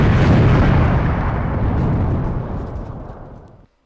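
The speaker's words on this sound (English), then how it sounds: "That was a long explosion." A long, loud explosion sound effect roars as a broad rumbling blast that slowly fades over several seconds before cutting off abruptly.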